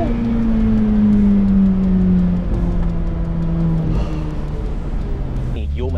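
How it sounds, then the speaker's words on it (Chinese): A Ferrari F8 Spider's twin-turbo V8 roars under load, heard from inside the car: a loud sustained engine note slides gradually lower, then a quick shift or throttle lift follows near the end. Excited talk carries on over the engine. "这个 V8 Twin Turbo 的声浪的确是没有经典的那个 NA8 那么高亢"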